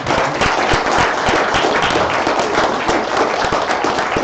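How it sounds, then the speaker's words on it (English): Audience applause for conference speakers and panelists, dense and loud continuous clapping from a crowd with overlapping sharp hand claps throughout. "the wonderful speakers, the panelists, they deserve another round of applause."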